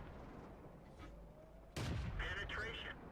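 Tank gunfire in World of Tanks, one sharp cannon blast partway through followed by a rumbling shell impact and ringing tail, with quieter game ambience before it.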